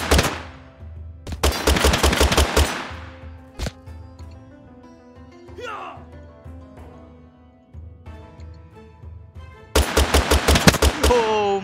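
Rapid bursts of gunfire in the video game Totally Accurate Battle Simulator, with loud machine-gun volleys at the start and end and a quieter stretch of scattered shots and game noise between them.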